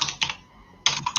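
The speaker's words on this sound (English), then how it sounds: "I'm going to wait until someone is done typing." Rapid clattering keystrokes on a computer keyboard in two bursts separated by a short quiet gap, close and fairly crisp, with no talking.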